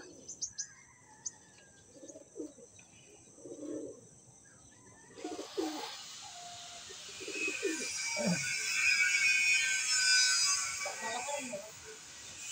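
Soft, low coos from a flock of pigeons in San Jose del Monte, Bulacan, repeat in short bursts, joined later by a bright chorus of chirping birds, with a voice speaking under it all.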